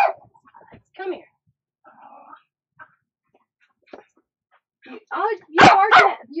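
A dog barks sharply a few times, with quieter whimpers and yips scattered between, close and loud, with brief moments of silence in between.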